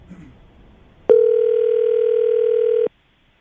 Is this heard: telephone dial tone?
yes